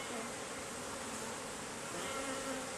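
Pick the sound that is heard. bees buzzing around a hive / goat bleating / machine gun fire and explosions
bees buzzing around a hive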